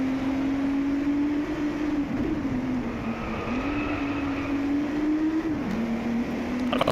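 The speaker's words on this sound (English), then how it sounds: "The engine noise is a bit weird." A car engine in the racing video game Driveclub drones steadily with a sustained tonal whine that climbs and dips with gear changes, loud and continuous, with no talking over it.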